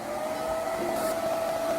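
A hair dryer blows steadily on fresh paint on a painted pot, a constant close whooshing roar with a faint motor whine, running alone without speech.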